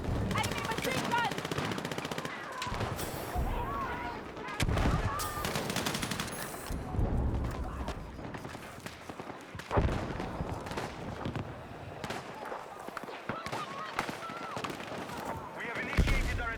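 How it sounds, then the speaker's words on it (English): Sustained video-game battle with enemy machine gun fire rattling in dense bursts, mixed with explosions and other gunfire, loud and continuous over many seconds with shouted voices partly heard under the din. "Enemy machine gun!"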